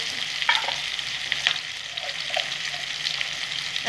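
Onions fry in a pan for a gandharaj chicken dish with a steady, bright sizzle, and a few soft scrapes and clinks from stirring come through. No one speaks.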